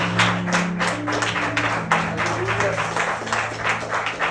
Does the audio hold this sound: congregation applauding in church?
yes